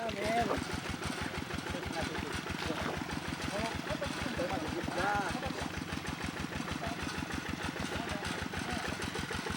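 A tractor engine chugs in a fast, even pulse while ploughing a heavy, muddy rice paddy, close and continuous, with people talking over it throughout.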